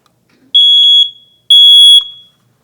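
A household smoke alarm sounding two loud, high-pitched electronic beeps, each about half a second long and separated by a short gap, close and piercing against silence.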